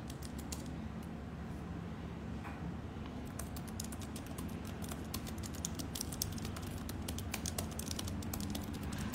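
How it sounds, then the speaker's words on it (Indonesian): Quick, irregular clicks of keys on a computer keyboard tapping steadily throughout, fairly quiet and close, with no voices. "Bentar ya, sambil ketik sesuatu."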